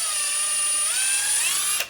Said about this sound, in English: run the drill bit in there